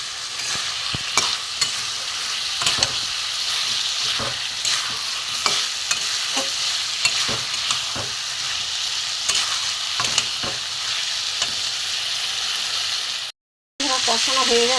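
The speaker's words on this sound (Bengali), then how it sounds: "মশলার সাথে আলুর সাথে ভালো করে কষিয়ে নেব।" Boiled potatoes in their skins are stir-fried with spices in a pan, giving a continuous sizzle broken by repeated scraping strokes of a spatula at close range, with no talking.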